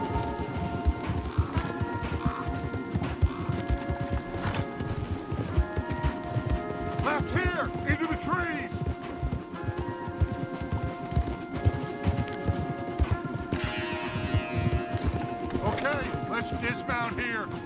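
Rapid, continuous hoofbeats of horses galloping, with occasional whinnies and snorts, under a sustained musical drone and brief shouted speech, in Red Dead Redemption 2.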